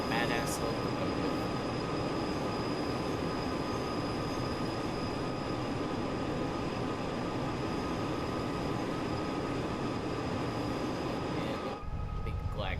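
A powerful locomotive running at full power in Train Sim World 5 on the West Coast Main Line North, a loud, steady roar and rumble of engine and wheels that holds constant for many seconds, then drops away abruptly near the end.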